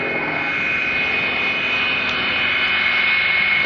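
A Sukhoi Su-26 aerobatic plane climbing vertically at the Biggin Hill airshow, its engine a loud, continuous droning roar with a steady high whine, heard alone without talk.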